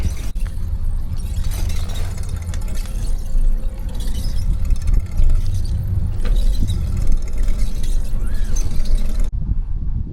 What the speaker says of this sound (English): I can still hear the cars around me